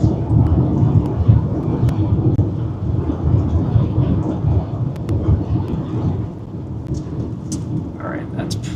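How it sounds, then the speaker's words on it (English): Thunder from a nearby lightning strike during a New Mexico supercell storm rumbles low and heavy for several seconds, then eases slightly, mixed with steady rain. "That was a big lightning strike just down the road here."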